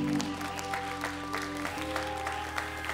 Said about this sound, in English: give the ushers a hand clap of praise this morning